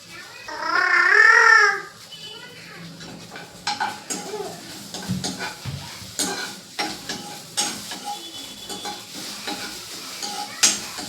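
Okra sambar stirred in a pan for a rice dinner, with a few soft scraping clinks of a spoon against metal scattered through the clip after a brief louder burst at the start.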